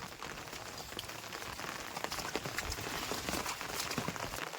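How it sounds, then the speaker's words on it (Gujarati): Rain falls on a surface nearby, a steady crackling patter of drops with no voices. "વરસાદ ચાલુ છે"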